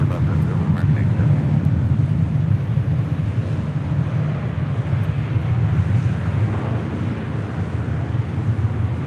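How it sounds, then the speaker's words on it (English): Alaska Airlines Airbus A321neo jet arriving at LAX from Seattle on the north side runways, heard as a steady, loud low-frequency engine roar with wind rumble throughout. "Next arrival here on the north side, Alaska Airlines Flight 1300 coming in from Seattle. It's an A321 Neo."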